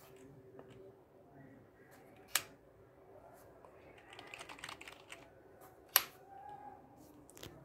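Keys tapped on a USB/PS2 keypad hooked to an Arduino, quiet close clicks in a loose rhythm with two sharper louder presses, and no talking.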